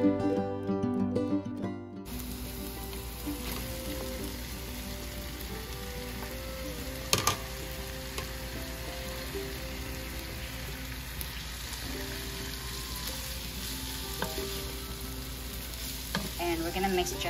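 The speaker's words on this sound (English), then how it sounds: "we're gonna mix just a light mixing it, not over stirring it" Bitter gourd and tomato are stir-fried in a pan, giving a steady, rain-like sizzle with occasional soft stirring strokes. A short burst of music plays at the very start.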